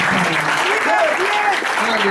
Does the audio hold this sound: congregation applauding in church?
yes